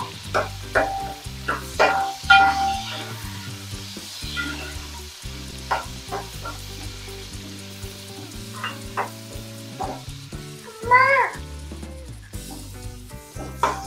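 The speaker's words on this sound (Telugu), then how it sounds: "ఈ ఆనియన్స్ మనకి బాగా ఫ్రై అవ్వాలి." Onions fry in a pan with whole spices for chicken donne biryani, a loud, steady, close sizzle broken by repeated scraping and stirring strokes.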